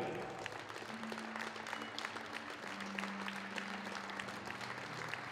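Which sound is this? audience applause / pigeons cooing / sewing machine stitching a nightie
audience applause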